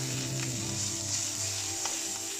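Ginger fries in a pan with a steady, close hiss of sizzling oil and a few soft stirring taps.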